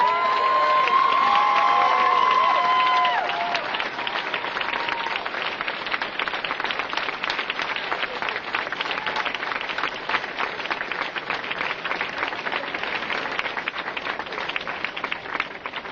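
Sustained crowd applause and cheering at a primary election victory speech, loud and continuous, with a brief whistle near the start and scattered shouts throughout.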